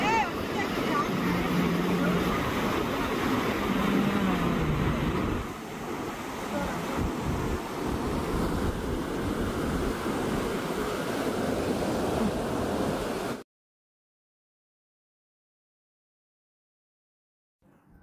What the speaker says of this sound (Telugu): ఈ రివర్ ఫ్లో కూడా చాలా ఎక్కువగా ఉంది.